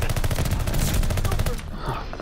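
Rapid automatic gunfire in a video game, a steady loud burst of repeated shots for over a second and a half, then cutting off into quieter game noise.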